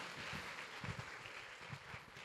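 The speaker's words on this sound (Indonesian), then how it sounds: "Tepuk tangan untuk kita semua." An audience claps at a school talk show, a fairly faint, steady patter of many hands that rises and falls for a couple of seconds, heard from a distance with no speech.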